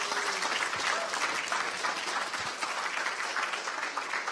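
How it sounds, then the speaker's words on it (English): Steady, dense applause from a startup pitch bootcamp audience applauding themselves at a closing event, many hands clapping evenly throughout, fairly distant and diffuse with no talk over it. "Applause for yourselves."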